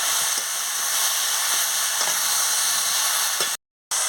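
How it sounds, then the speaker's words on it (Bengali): Steady, loud sizzling hiss of mixed vegetables sautéing in a pan, continuous frying with faint stirring scrapes, cutting off briefly near the end. "খুলে নিয়ে ভালো করে আনাজটাকে আর একটু কষিয়ে নিচ্ছি"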